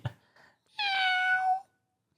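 A cat lets out one clear, drawn-out meow, loud and close, with a short faint sound just before it.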